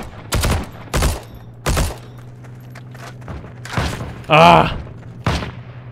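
Gunfire in the WWII shooter Heroes & Generals: several heavy, booming shots spaced about a second apart, mid-loud and fairly close, with a brief shouted exclamation near the end.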